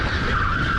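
Go-kart tires squeal and skid under hard braking on a kart track at Whilton Mill, a short loud continuous screech lasting under a second, up close.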